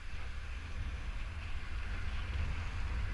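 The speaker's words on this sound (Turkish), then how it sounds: "Tek sorun çok fazla rüzgar var." Constant buffeting wind noise roaring across the microphone beside a canal in the Netherlands, low and gusty, steady throughout with no voices.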